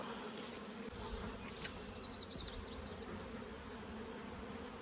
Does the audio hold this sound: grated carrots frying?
no